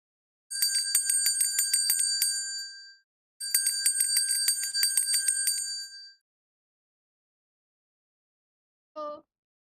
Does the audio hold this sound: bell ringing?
yes